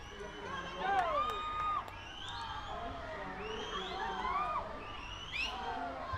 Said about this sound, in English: The sound from the crowd, the cheer from the crowd says you the story.